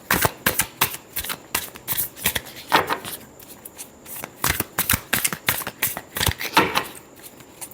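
Tarot cards being shuffled up close, with repeated crisp riffles and flicks in uneven bursts, fairly loud and steady, with no talking.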